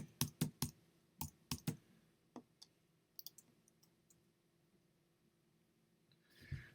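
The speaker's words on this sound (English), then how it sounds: "you can type in a location" Typing a location into Google Maps on a computer keyboard: quick bursts of close, crisp key clicks at the start, then sparser scattered taps trailing off into quiet.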